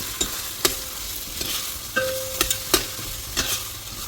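Onions fry in a pan for mutton curry with a steady crackling sizzle throughout. Sharp spoon-against-pan clacks break in at uneven intervals.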